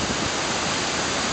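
Kuang Si waterfall near Luang Prabang, Laos, pours into a series of pools with a dense, steady rushing roar that is broad, constant and fairly loud, with no voices.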